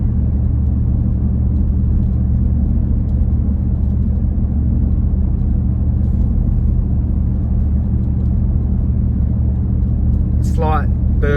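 A Nissan Y62 Patrol fitted with a Manta cat-back exhaust cruises at around 60 km/h, giving a steady low rumble and road drone from inside the cabin, with a voice briefly heard near the end.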